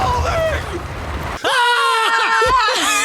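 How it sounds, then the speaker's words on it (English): People screaming while falling in a movie, shrill overlapping screams with wavering pitch bursting in loudly after a quieter stretch with a voice and lingering to the end. "There's this one where they're just screaming and screaming and screaming."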